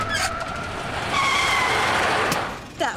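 Tires on a classic car screech in a long, loud skid as the car slides out of control on a road, with engine whine and a brief squeal returning at the end, no talking over it.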